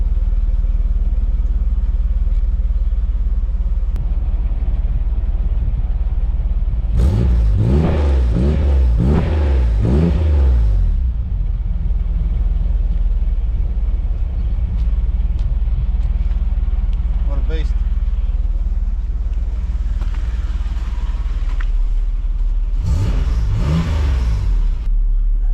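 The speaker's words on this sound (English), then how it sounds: "It actually has a really nice note for a V6." Holden Ute V6, a 33-year-old daily driver, heard from outside as it revs in two bursts separated by a steady idle rumble, loud and fairly close.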